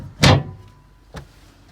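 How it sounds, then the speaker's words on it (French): A watertight cabin door with dogs aboard the sailboat SV Iguana shuts with a loud, close thud, followed about a second later by a softer second knock as it settles, with no talking. "Alors là, on a une porte étanche pour rentrer dans la cabine avec des dogs."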